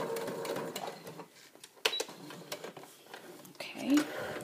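A sewing machine runs in short stretches while stitching the seam around the foot of a memory teddy bear, a faint mechanical whir with small clicks under quiet, whispery talk.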